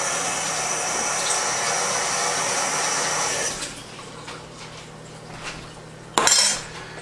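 Cooked hamburger meat being rinsed under running water in a kitchen, a steady rushing stream that cuts off midway, followed by a short clatter of a pot or utensil.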